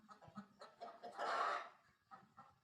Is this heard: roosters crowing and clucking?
yes